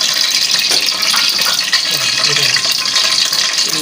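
Water pouring steadily into a cooking pot while koftay aloo is being prepared, a continuous close splashing gush with light kitchen clatter and no clear talking.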